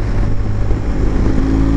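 A motorcycle fitted with a BoosterPlug runs in fifth gear on the throttle, a loud, continuous low engine drone with buffeting wind noise throughout.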